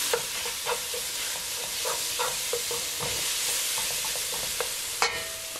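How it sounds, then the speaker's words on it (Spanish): Small pieces of bacon (tocineta) fry in a pan for a stew, a continuous bright hiss close up, dotted with light spatula taps and one louder clack near the end. "La vamos a poner a sofreír ahí. Vamos a echar la tocineta,"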